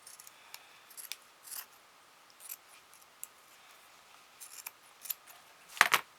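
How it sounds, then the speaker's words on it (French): Scissors snip through a piece of lace in a few short, quiet, close cuts spread over several seconds, ending with a sharper metallic clack of the blades. "je vais couper un bout parce que là, c'est vraiment trop grand"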